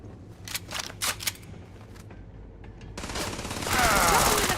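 Gunfire from a sci-fi shooter game Starfield: a few sharp, loud shots early, a pause, then a denser, louder burst of rapid fire building toward the end.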